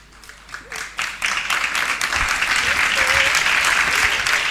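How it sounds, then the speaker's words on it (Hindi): Applause from the audience at a ceremony honouring public representatives, a dense wash of clapping that swells up within the first second and holds steady and loud to the end. "मुझे बार बार आपसे निवेदन करना पड़े ताली बजाओ, ताली बजाओ, ताली बजाओ।"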